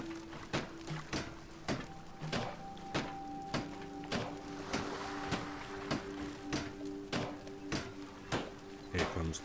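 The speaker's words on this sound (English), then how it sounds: "Here comes the dryer." Dryer machine running in the ocean-raft survival game Flotsam, a steady hum with a regular series of sharp mechanical thunks and clicks repeating about every half second.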